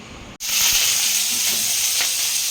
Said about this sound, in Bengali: জিরের ফোড়ন দিয়ে সবজিটা দিয়ে দিলাম